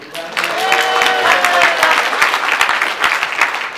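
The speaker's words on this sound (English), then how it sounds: "Okay, everybody claps." A small group claps together, loud and close, a dense patter of hands lasting a few seconds, with a brief voice at the start.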